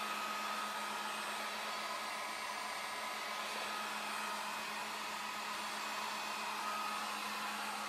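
A heat gun blows steadily over Dixie Belle paint wash on a furniture piece, a constant close whirring hiss of hot air that holds level throughout with no talking.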